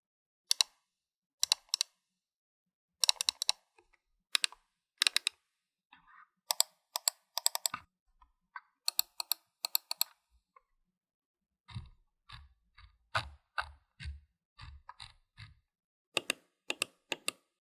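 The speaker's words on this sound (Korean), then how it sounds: "클릭음이 그렇게 자극적이지는 않기 때문에 업무용으로도 쓰기에 나쁘지 않을 것 같습니다" Clicks from a lightweight Razer computer mouse, sharp and close, in quick clustered bursts separated by short silences, with softer, duller taps in the middle stretch and no talk.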